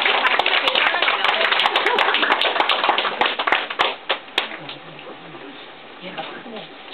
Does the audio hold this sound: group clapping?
yes